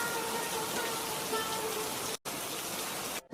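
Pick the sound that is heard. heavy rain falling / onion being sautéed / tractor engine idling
heavy rain falling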